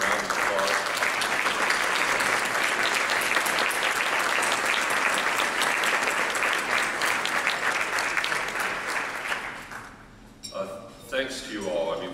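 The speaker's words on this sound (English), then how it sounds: "Could you all stand up and give them a round of applause?" Loud, dense applause from a standing audience at a leadership awards ceremony at a technology conference, sustained for about ten seconds before fading into scattered claps and a few voices.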